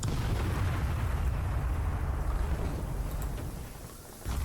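Artillery fire rumbles through a large fort assault in the video game Call to Arms, set in an apocalyptic 2066, a loud, continuous low booming wash that holds steady and dips briefly near the end.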